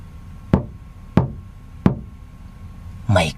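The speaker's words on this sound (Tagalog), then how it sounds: "may kumatok sa bintana. Isang mabagal, malamig, at hindi taong pagkatok." Three slow, evenly spaced knocks on a window, sharp and fairly close, ring out against a quiet background and are followed by a brief burst of another noise.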